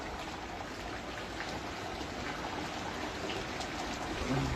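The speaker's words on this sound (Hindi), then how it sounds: "ये बारिश इतना तेज है भैया, मैं क्या बताऊँ" Heavy rain pours steadily outdoors in a constant dense hiss of drops that fills the whole stretch, with no voices heard.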